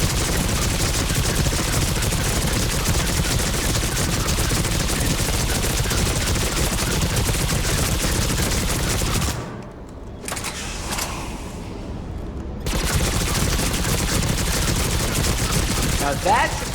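Gunfire in the Mass Effect 3 video game: dense, loud, rapid shots and bursts over a busy background, with a short quieter lull in the middle before the firing picks up again.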